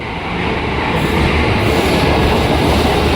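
A KRL commuter train in Jakarta rumbles loudly and steadily, a close, dense roar of wheels on rails with faint rhythmic clatter, building slightly at the start then holding constant with no voices.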